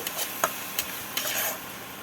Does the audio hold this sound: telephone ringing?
no